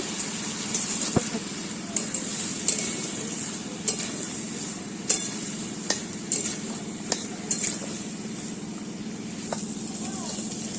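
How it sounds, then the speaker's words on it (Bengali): Potatoes with a little turmeric being stirred in a pan, with steady low frying noise, regular scraping and tapping strokes of a spatula, and a few sharp clinks against the metal. "আলুর মধ্যে একটু হলুদ দিয়ে দেবো, দিয়ে নাড়াচাড়া করে নেব"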